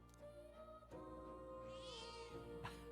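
A cat in the video game Metaphor: ReFantazio gives a clear, drawn-out meow over a quiet game soundtrack, with a few short softer mews around it.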